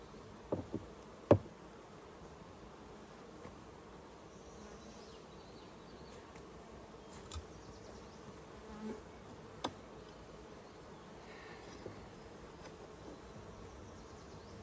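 A low, steady insect hum of many honeybees inside a hive throughout, fairly quiet, with a few soft knocks and clicks scattered through it.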